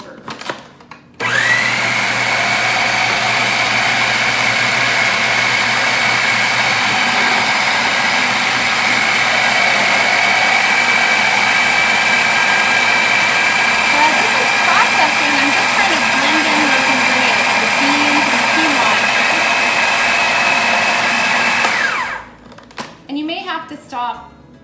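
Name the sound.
food processor chopping vegetables for veggie burgers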